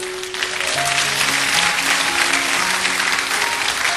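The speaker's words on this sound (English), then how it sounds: "Clap." A church congregation at a sermon breaks into sustained applause, dense and loud throughout, with a few faint voices mixed in.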